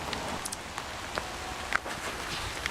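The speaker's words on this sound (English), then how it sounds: "It is starting to rain here right now," Rain falls outdoors by Swan Lake, a steady soft hiss with scattered sharper drops tapping nearby, at an even moderate level with no talk.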